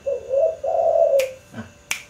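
A tame turtledove gives a few close, clear coos, a low rounded phrase followed by a brief pause and sharp snapping or clicking sounds near the end.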